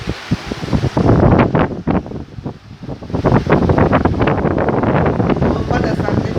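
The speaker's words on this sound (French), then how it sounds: "Le vent du sud, ça souffle très très fort hein" A strong south wind roars and buffets against the microphone in loud, gusting surges with rumbling bursts, close and constant, as someone speaks beneath it.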